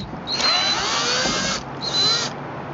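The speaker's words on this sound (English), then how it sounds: "Now, you go in and just remove the screws." A power drill whirs in two bursts, one long and one shorter, backing out screws from the taillight of a Ford Explorer Sport Trac, close and fairly loud with a steady high whine.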